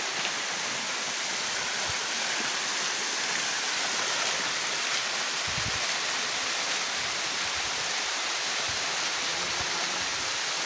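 Continuous rushing roar of a tall waterfall, a dense, unbroken wash of falling water that stays steady and loud throughout, with a few low thumps of wind or handling.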